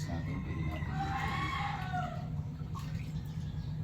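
Chickens cluck softly and crow in a farm yard, fairly quiet and a little distant, with a steady low background hum and no talking.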